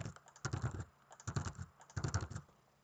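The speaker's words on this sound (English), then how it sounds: "To input values into the table, you just click on one of the cells and just type" Computer keyboard typing in three quick bursts of rapid key clatter separated by short pauses, close and fairly soft, with no talking.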